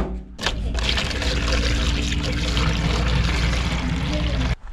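Water pours steadily into a UTB U445 DT 4x4 tractor, a continuous close splashing gush that starts abruptly and runs for about four seconds before cutting off.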